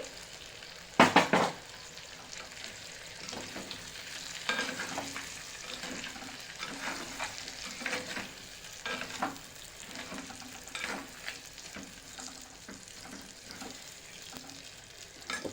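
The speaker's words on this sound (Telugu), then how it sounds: "ఇప్పుడు ఇందులోకి ఇందాక మనం కట్ చేసుకున్నాం కదా ఆనియన్స్ వేయండి" Chopped onions frying in a pan, a steady close sizzle with occasional stirring scrapes and a sharp clatter near the start, no talking.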